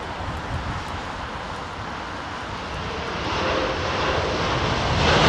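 An airliner landing on runway 27R at London Heathrow, its engine roar broad and steady, swelling louder over the final seconds as it rolls out with aerodynamic braking, with no talking.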